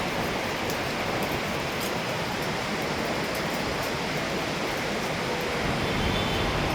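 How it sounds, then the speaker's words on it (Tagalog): Heavy rain pouring down on a Davao City street during a January downpour at dusk, a steady dense broadband roar that stays constant and loud throughout with no voices. "Grabe ulan."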